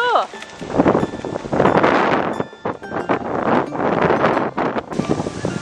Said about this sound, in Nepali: त्यसकै हावा आएर यहाँ माथिको आँपहरू सबै खस्यो